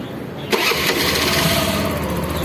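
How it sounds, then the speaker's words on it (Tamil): A TVS Jupiter scooter with its malfunction indicator light on starts after a brief quiet moment. The engine catches abruptly and settles into a steady, close, loud idle hum. "வண்டி ஸ்டார்ட் பண்ணுங்க."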